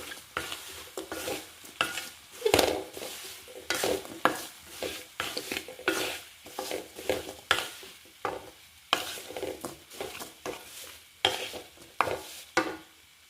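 Fried beef being stirred in a pan for Kerala-style beef pickle, rhythmic scraping strokes with a soft sizzle and occasional clinks of utensil against metal, close and without speech.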